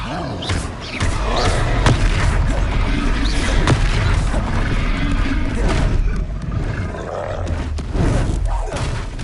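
Confringo blast spells in Hogwarts Legacy, loud booming impacts layered over a roaring creature and thick battle noise, with several heavy hits in quick succession.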